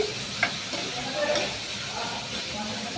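Curry of sarakandha (yam) and dried fish being stirred in a pan, a soft scrape and light sizzle over a steady background hiss, with a few brief clinks near the start.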